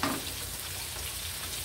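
Vegetables and fish fry in a pan while being stirred, giving a soft, steady sizzle with a brief scrape at the start.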